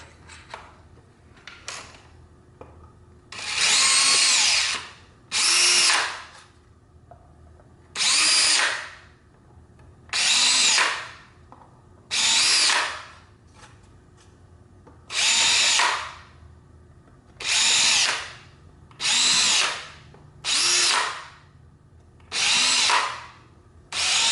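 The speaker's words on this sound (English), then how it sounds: "re-drill all of the holes we just did with a 1/8 drill bit" Repeated short bursts from a power drill re-drilling holes with a 1/8 inch bit, about a dozen over the stretch, close and fairly loud, separated by brief quiet gaps and faint handling noise.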